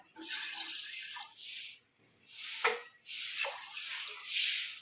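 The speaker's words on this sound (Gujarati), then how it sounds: "હવે એમાં પાણી નાખશું આપણે બે ગ્લાસ" Water runs from a tap into a vessel of washed green moong beans in a home kitchen, coming in several short gushes with brief pauses between them, close and fairly loud, with no talking.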